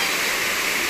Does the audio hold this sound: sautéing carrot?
no